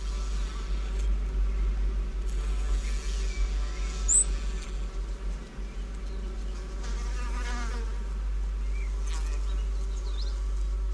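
Insects buzz around flowers in an Australian forest, a continuous whining drone near and far with occasional louder passes by individual flies or bees, under a steady low hum.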